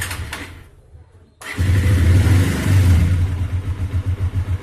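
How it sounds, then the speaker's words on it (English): A motorcycle held in neutral is started during a conventional engine oil flush, then settles into a steady, loud idle with a low rhythmic pulse that continues without any talk. "Keep the vehicle in neutral condition, don't keep it in the gear. Okay, and then just start the bike."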